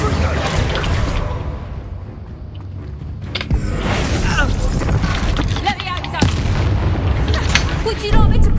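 Bombarda spell blasts erupt during a fight in the video game Hogwarts Legacy: repeated loud booms and crackling impacts over dense game noise, with a voice shouting between the blasts.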